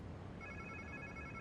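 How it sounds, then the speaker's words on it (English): An in-game phone rings in Spider-Man 2, a faint repeating electronic ring tone that starts partway through and continues steadily over a low background rumble. "Sounds like somebody's phone."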